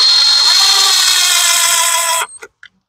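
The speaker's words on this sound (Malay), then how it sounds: "kita ketatkan clutch ni" A power tool whirs steadily on a Yamaha Y110SS motorcycle clutch during an engine rebuild, running continuously for about two seconds before stopping abruptly, followed by a couple of brief clicks.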